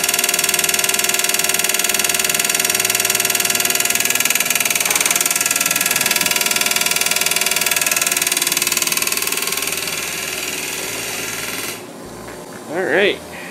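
An electric fuel pump clacks steadily while filling with fuel during injector testing, a continuous mechanical rattle with a faint hum that runs loud and constant before dropping off near the end.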